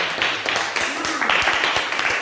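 A classroom group claps hands in a short burst of uneven, individual claps, fairly close, with some voices mixed in.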